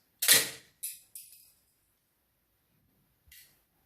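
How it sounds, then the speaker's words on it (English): Toy flick shooters fire three times in quick succession, each a sharp, close snap that fades fast. After a pause a fourth, fainter snap follows, set against near silence. "they've got more flick shooters. They shoot like this."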